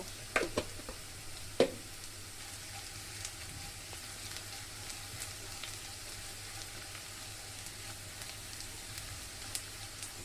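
Whole cumin seeds fry in hot oil, giving a faint, steady sizzling hiss with a few small pops and crackles near the start.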